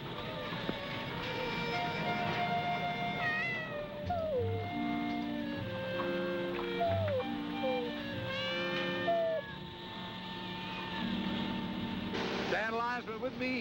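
A cat named Dandelion meows in several drawn-out, wavering calls over steady background music, with some speech nearby.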